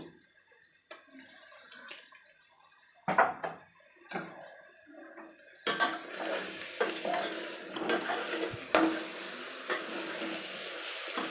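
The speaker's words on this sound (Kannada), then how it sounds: "ಕ್ಲೀನಾಗಿ ಮಿಕ್ಸ್ ಮಾಡ್ಕೊಳ್ಳಿ ಮಸಾಲೆನ" Masala being mixed into mutton in a pan for North Karnataka-style mutton chaakana, with soft stirring scrapes and a few clinks, then a steady sizzle and frying crackle filling the second half, close and without talk.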